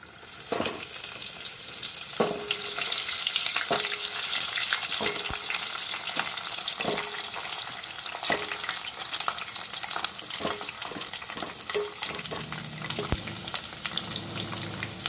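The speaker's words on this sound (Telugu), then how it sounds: "ఆయిల్ వేడైన తర్వాత మనము ఉసిరికాయలన్నిటిని ఆయిల్లో వేసుకోవాలి." Amla (Indian gooseberry) pieces frying in hot oil for pickle, a steady loud sizzle with scattered sharp pops and crackles throughout, no voices.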